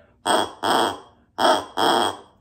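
A voice imitates duck quacks: four loud, nasal honks in two pairs, each about a quarter second long, close and with no other talking.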